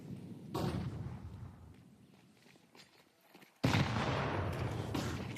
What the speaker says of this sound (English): Good high damage nade.